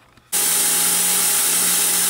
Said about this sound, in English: let's mount it up in the grinding vise and grind the bevel off